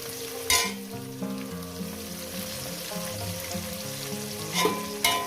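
Potatoes and chopped onions fry in a pan of hot oil with a soft, constant sizzle, a couple of louder stirring scrapes breaking through near the start and end; no one speaks.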